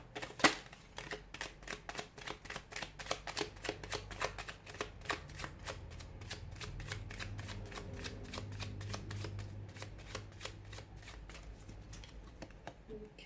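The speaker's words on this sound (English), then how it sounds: "give the cards a shuffle" Tarot cards are shuffled by hand close up, a long run of quick crisp riffling flicks and soft patter, fairly quiet, with a faint low murmur beneath.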